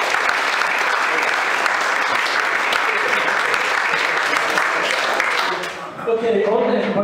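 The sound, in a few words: applause from the audience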